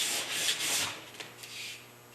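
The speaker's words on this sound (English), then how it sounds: "just by doing it by hand with a sharp piece of sandpaper" Sandpaper rubs by hand across a small workpiece in short, soft, close strokes, a gentle rasping swish that rises and fades several times with no talk.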